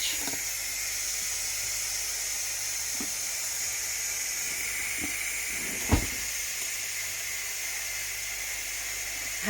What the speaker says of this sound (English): I am just going to release the remaining pressure in here